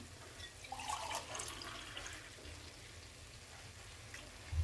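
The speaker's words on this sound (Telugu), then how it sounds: "ఇప్పుడు కొబ్బరి పాలు వేస్తున్నా" Coconut milk is poured into a pressure cooker pot of coconut vegetable pulao, giving a soft, faint liquid trickle and splash with no talking.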